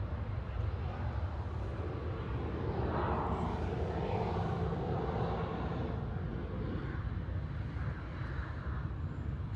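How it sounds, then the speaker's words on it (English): A KLM Boeing 737-900 airliner arrives at Manchester Airport with a faint, distant, steady jet roar that swells slightly midway, heard from outside against a low background rumble. "It's a 737-900."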